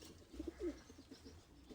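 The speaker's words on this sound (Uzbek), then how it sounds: "Ikkovi ham bir xil ajoyib chiroyli kaptarlar." Pigeons cooing softly at close range, a few low throaty coos in quick succession, faint and alone without any talk.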